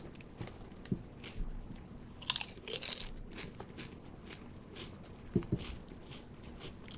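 Lay's Cheetos Cheese flavored potato chips crunched close up, a few sharp bites followed by soft, quieter chewing against faint background noise.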